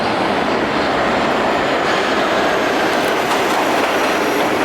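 A New York subway train arriving roars loudly and steadily nearby, a dense rumbling rush with faint squealing wheels and rhythmic clatter throughout.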